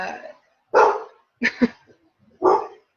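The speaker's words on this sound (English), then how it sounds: "He's talking to the neighbor dog down the street." A neighbor's dog down the street barks in a few distinct bursts separated by short pauses, fairly close and clear, with no talking over it.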